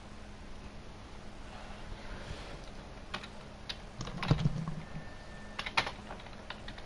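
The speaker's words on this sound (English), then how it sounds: "Sorry if you can hear typing." Typing on a home computer keyboard sounds as sparse, soft key clicks and a few sharper taps over a low background hum, with no voices.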